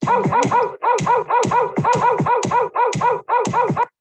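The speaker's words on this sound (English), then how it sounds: "so you can hear the bark" A dog barks repeatedly in a quick, even rhythm, about a dozen sharp, loud barks in clustered pairs, alone with no other sound.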